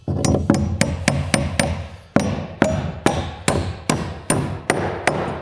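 Hammer driving nails through the bottom plate of a framed wall into the rim joist, about a dozen sharp, ringing strikes in a steady rhythm with a brief pause midway, close and loud, no talk.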